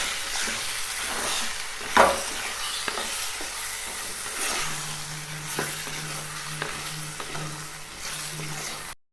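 Chicken frying in a pan with onion and ginger-garlic paste, being stirred: steady close sizzle with repeated scraping and clinks of the spoon, one louder knock early on.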